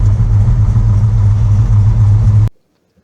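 Vehicle engine running at a steady mid-pitched idle-like drone, close and loud, during a clutch adjustment stop on a road trip, cutting off abruptly near the end.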